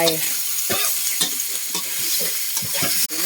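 Meatballs are stir-fried in a pan for a Thai basil stir-fry, with repeated scraping stirs at a steady, uneven rhythm over a continuous close, loud sizzle.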